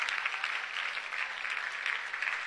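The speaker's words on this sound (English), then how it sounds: "Let us clap our hands for Jesus for this instant miracle." A church congregation claps their hands together in a continuous, fairly even wash of applause that runs through the whole moment without voices.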